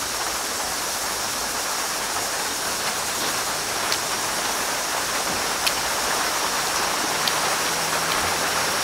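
Steady, heavy rain hisses continuously in a dense wash of noise, with occasional faint drips and taps standing out above the downpour.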